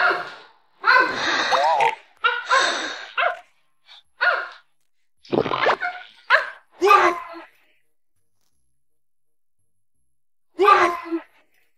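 A human voice imitates a dog barking, giving a series of loud, separate woofs and yelps in short bursts with pauses between them, ending after a longer silence.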